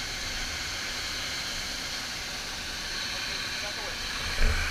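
Firefighting foam sprays from a nozzle in a steady, broad hiss that rushes on without a break. A brief low thump comes near the end.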